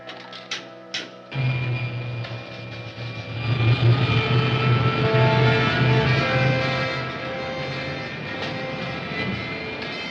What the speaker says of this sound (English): Starting jet.